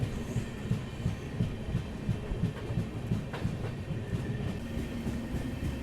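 Poorna Express train running on rails on a route through the Dudhsagar Falls area: a steady, rhythmic rumble and clatter of wheels fills the whole stretch at an even level, with no voices.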